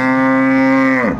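A cow at a dairy cattle market in Ambari, Dinajpur gives one long, loud, close moo that falls off at the end, with no talking.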